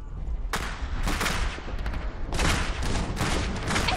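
Gunfire rattles through a battle in the real-time strategy game Iron Harvest, with loud overlapping bursts of shots and booms in dense volleys, separated by short lulls.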